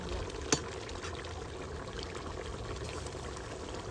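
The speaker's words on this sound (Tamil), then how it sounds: "தக்காளி சாதம் வடிக்கிறேன்." Cooking water drains off tomato rice in a village kitchen, a faint continuous pouring trickle with one brief clink near the start.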